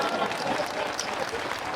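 Audience applause at a presidential address in Dogbo, a steady even wash of clapping with crowd murmur and voices mixed in, fairly distant and moderate in level throughout.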